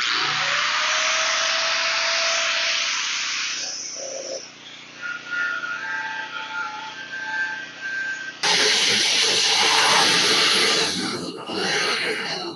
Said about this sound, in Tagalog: So i-test natin yung ating grinder muna.